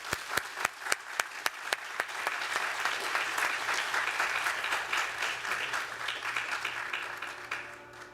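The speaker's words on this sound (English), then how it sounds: "I would still like us to give him a round of applause." Crowd applause at an honors program awards ceremony, opening with a few sharp individual claps that swell into steady, full clapping from many people, tapering slightly toward the end.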